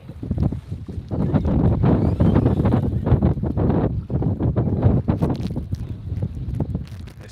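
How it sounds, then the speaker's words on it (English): Strong wind buffets a boat at sea on the way to the Farallon Islands, a loud, steady roar of rushing air and microphone gusts that fills the whole stretch with no talk. "this wind is picking up"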